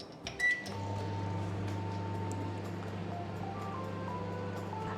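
A microwave oven runs with a steady low electric hum, melting chocolate, after the door shuts and a short beep sounds near the start.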